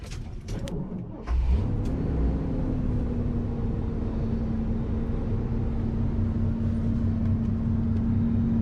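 A 1977 GMC Palm Beach Custom motorhome starts moving, with a short clatter before a steady, loud, droning engine hum that holds even and continuous from inside the cabin as it drives.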